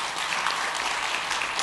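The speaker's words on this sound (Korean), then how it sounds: "박수로 환영하며 축복하겠습니다." A church congregation at a Sunday service claps to welcome new members, a dense, steady burst of applause filling the room.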